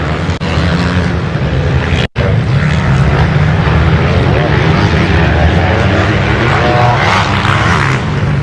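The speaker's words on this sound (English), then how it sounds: "Here the Scalvini exhaust." A motocross bike fitted with a Scalvini exhaust races through a final right-hand sweeper at a motocross event, its engine roaring loud and continuous for several seconds with only a momentary dropout.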